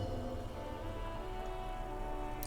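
Steady rain ambience in the game Disco Elysium, a dense even hiss of drops striking surfaces, constant and enveloping with no voices.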